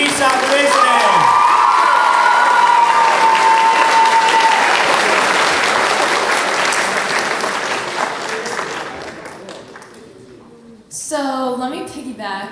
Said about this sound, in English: Can we please give a huge round of applause to our valedictorian